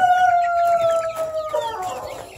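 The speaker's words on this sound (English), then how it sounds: "Show you our chicks. These chickens here are getting ready to leave this area" Young chickens on a homestead give a drawn-out call followed by quick, close clucks and chirps, moderately loud with no one speaking.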